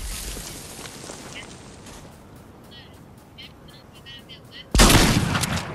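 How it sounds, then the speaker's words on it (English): Fortnite gunfire: a brief burst of shots opens, then a loud, sustained volley erupts near the end, with muffled voices beneath. "Do I hear shooting?"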